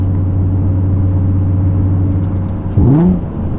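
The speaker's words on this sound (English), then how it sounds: "But those downshifts just sound so good." A modified Nissan 350Z engine on cold mountain roads in Mexico, droning steadily at cruise, then a sharp rev blip near the end as it downshifts, close and loud.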